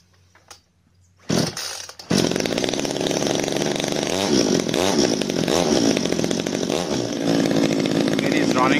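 Ryobi 50cc petrol chainsaw catching after a few pulls, then idling loudly and steadily up close with occasional small rises in engine pitch.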